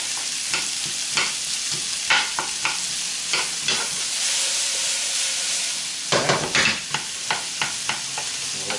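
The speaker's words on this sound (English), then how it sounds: "You want to stir this quite frequently while you're doing this too." Vegetables sprinkled with salt fry in a pan for a bacon spinach quiche, under a steady loud sizzle broken by repeated quick scraping stirs, close by.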